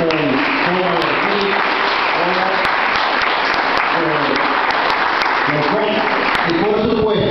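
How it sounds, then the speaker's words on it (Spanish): Loud, sustained applause from a crowd at a welcome ceremony, with voices and cheering mixed through the clapping throughout. "Agradecer a Catalina, agradecer a Salón, un fuerte aplauso para los gerentes, tanto en como de aquí,"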